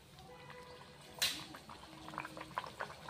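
Puris frying in hot oil in a kadhai over a medium flame: a sudden sizzling splash as dough meets oil, followed by quieter bubbling crackle with scattered pops.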